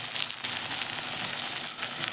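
Tomato added to frying sabudana khichdi is stirred in a pan, producing a steady, loud, close sizzle with soft scraping underneath.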